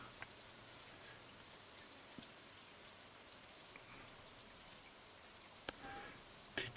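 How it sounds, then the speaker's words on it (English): Steady rain falling in the farming game Stardew Valley, a soft, even patter throughout with a few faint clicks and brief louder blips near the end, no voices. "The rain doesn't matter."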